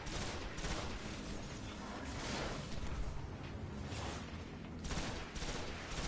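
Rapid gunfire and blasts from a grenade in the video game Destiny roar loud and close, in dense, continuous volleys with whooshing bursts and no gaps.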